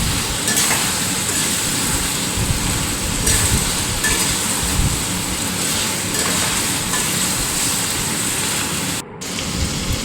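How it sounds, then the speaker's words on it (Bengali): Chicken sautés with ground ginger, garlic and cumin paste, producing a dense, continuous sizzle with stirring scrapes throughout and a brief dip near the end, no talking. "আগে থেকে বেটে রাখা আদা, রসুন আর জিরে বাটা মশলাগুলোকে দিয়ে ভালোভাবে মাংসের সঙ্গে এবার কষাবো"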